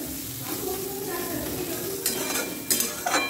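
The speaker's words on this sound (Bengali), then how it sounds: "এরকম আমি চাউয়ের জন্য সবজি ভাজছি" Vegetables for chow mein sizzle and fry in a pan while being stirred. Several sharp clinks of a utensil against the pan stand out over the steady frying.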